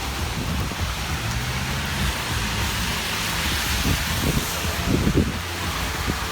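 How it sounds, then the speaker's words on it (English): Steady broadband hiss of rain in San Francisco with low rumbling underneath and a few soft thumps, continuous and moderately loud, no voices. "It's been raining for a week."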